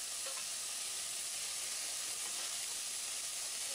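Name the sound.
tomato pieces sizzling and stirred with fried onions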